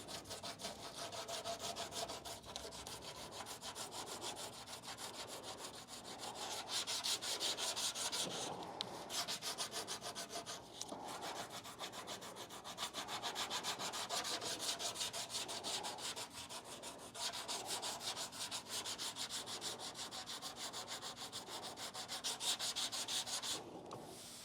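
Steady hand sanding of the clear coat and paint on a 1935 Packard, a continuous rasping scrape running in long back-and-forth strokes with brief pauses, close and fairly loud, no voices.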